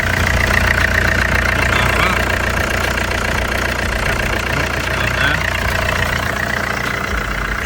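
Diesel engine of a Mercedes W204 C220 CDI idling smoothly after repair, a steady close rumble with an even, unbroken drone and no change in pace.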